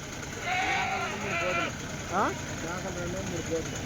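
Crossbred goats at the Tuesday livestock market in Kadiri bleat in a few short cries, with one sharp bleat rising above a busy crowd murmur and a faint idling engine in the background.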